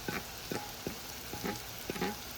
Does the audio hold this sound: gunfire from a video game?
no